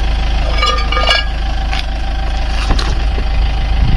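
A camper van engine idles steadily at a campsite, a loud continuous low rumble with a few faint clicks and shifts in tone over the top, holding level throughout.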